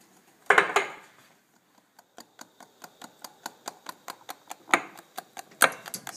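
Eggs being whisked by hand in a bowl for a souffle, a rapid, even run of clicking taps of the whisk against the bowl after a few louder knocks, close and with no talk.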